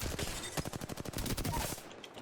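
Rapid automatic gunfire in the battle royale game Apex Legends rattles out in a quick burst of evenly spaced shots, loud and close, cutting off abruptly at the end.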